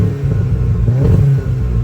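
A Volkswagen Polo GTI with 330 hp sits stationary in sport mode while its engine is revved, a loud, close, throaty roar rising and falling in short blips without any talk.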